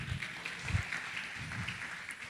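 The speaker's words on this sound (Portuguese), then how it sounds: "Palmas pro João, galera." Youth church audience clapping for João, a brief, fairly soft spell of many hands clapping, slightly uneven and somewhat distant.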